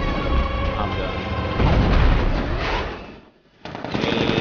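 Rapid gunfire from the Batmobile's riot suppressor in Batman: Arkham Knight, a dense, loud roar of continuous shots that briefly cuts out near the end before resuming.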